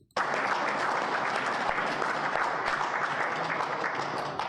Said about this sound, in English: What's the clapping for?